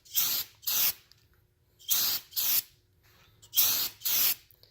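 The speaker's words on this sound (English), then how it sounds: "It's like I'm painting my crank here with brake clean." Brake cleaner sprayed onto a Ford 302 V8 engine crankshaft in a workshop, six sharp aerosol hisses in three close pairs, loud and near, with short quiet gaps between pairs.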